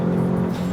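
A Twingo RS turbo car tuned to 346 horsepower idles with a steady low engine drone, heard close and continuous for a brief moment.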